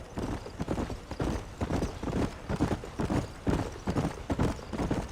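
A horse gallops in the video game Red Dead Redemption, its hooves drumming a quick, steady clip-clop rhythm that stays close and continuous throughout, with no talking.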